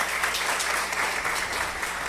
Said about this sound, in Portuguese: Eu até peço uma salva de palmas